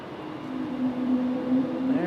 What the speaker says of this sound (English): JetBlue making some noise.